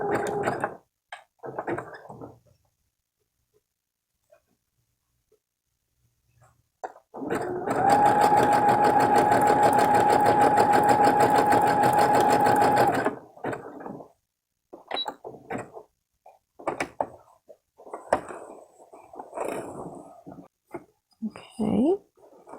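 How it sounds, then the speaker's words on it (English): A sewing machine with a pressure foot stitches in one steady, loud run of about six seconds, with quiet handling noises and soft talk before and after. "slowly start stitching."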